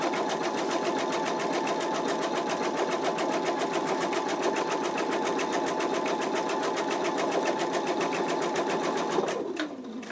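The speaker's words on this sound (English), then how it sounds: "that is your placement stitch for your batting" An embroidery machine sewing a placement stitch for batting on an in-the-hoop wallet, a steady, fast mechanical needle chatter held evenly and close, winding down abruptly at the end.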